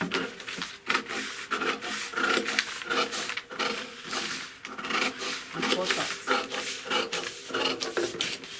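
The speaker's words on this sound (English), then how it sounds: "You cut out gradually." Steady rasping and scraping from cutting pattern paper for a six-piece skirt, short repeated strokes in a fairly even rhythm, close and continuous for several seconds.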